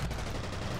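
Gunfire in the first-person shooter F.E.A.R., a dense, noisy burst of shots that fills the short moment without a break.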